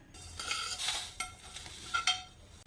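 Carom seeds and pickle spices sizzle softly in a pan while a spoon scrapes and stirs them in a few short strokes, close by with no talking.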